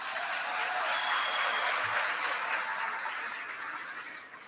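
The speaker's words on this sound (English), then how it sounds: "Please give yourselves a round of applause." A commencement ceremony audience at Governors State University applauds, a steady wash of dense clapping that holds for several seconds and then begins to taper slightly, with no voices over it.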